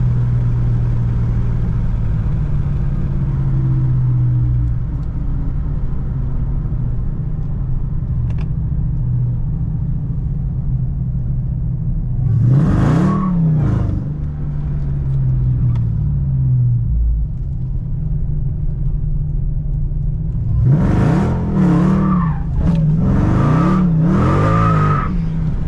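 A Dodge Hellcat idles with a steady rumble, then revs hard in short bursts during a burnout, the sharp climbs loud and near, with no talk.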